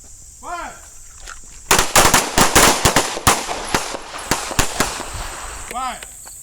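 Pistol gunfire at a combat pistol workshop, a quick ragged volley of sharp outdoor shots from several shooters that thins into scattered reports, with a voice shouting commands and insects chirping in the quiet before and after.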